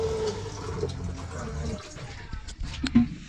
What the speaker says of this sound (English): you simply flush the toilet